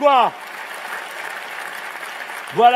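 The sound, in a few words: audience applauding a speech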